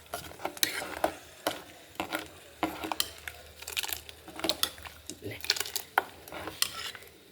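Coconut paste stirred into a dal and jackfruit seed curry in a pot, with repeated close clinks and scrapes of a utensil against the vessel in an uneven rhythm.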